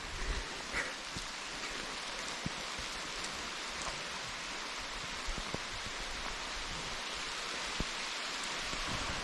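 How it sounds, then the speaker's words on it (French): Rain falling steadily outdoors during a trail running race in the Ardennes forest, a soft continuous hiss with scattered small drop taps, no voices heard. "C'est qu'il se met à pleuvoir maintenant."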